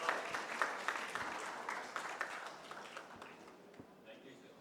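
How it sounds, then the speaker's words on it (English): Ladies and gentlemen at a surgical conference plenary session in a hotel ballroom give a professor a big round of applause, a sustained dense clatter of many hands that gradually thins out, with some voices mixed in. "So give him a big round of applause, ladies and gentlemen."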